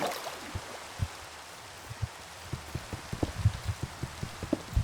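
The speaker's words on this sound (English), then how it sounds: "But again, it's raining." Soft, steady rain falls in the video game Minecraft, with scattered drips tapping irregularly over a faint hiss.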